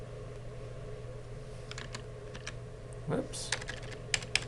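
Light clicking on a computer keyboard, a few scattered taps over a low steady hum, with a brief spoken word and a couple of sharper clicks near the end.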